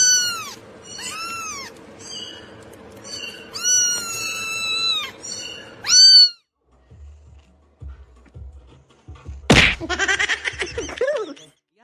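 A cat meows repeatedly in loud, close, rising and falling calls over about six seconds, followed by quiet rustling, a sharp slap, and a final burst of further meows.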